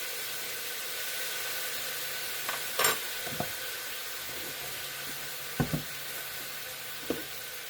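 A honey-marinated steak frying in a pan gives a quiet, steady sizzle, with a few soft clanks and taps as the pan or utensils are handled.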